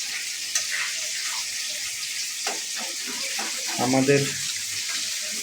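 Meat cooking in a pan, a steady hiss of frying with watery bubbling that swells briefly near the end, heard up close under a few spoken words.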